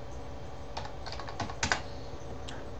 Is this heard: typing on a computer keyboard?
yes